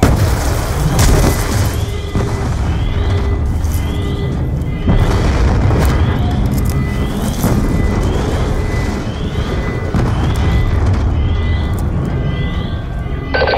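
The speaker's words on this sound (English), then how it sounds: "We're monitoring multiple explosions across the facility." Repeated heavy booms and blasts roll through a dense, continuous din of combat in Call of Duty: Black Ops 2, loud throughout with bursts every couple of seconds.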